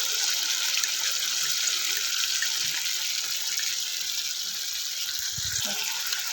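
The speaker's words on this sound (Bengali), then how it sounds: "সামান্য একটু জল দিয়ে দিচ্ছি" Water poured into a cooking pot of vegetarian pea ghugni, a steady close trickle and splash running evenly for several seconds with no talking.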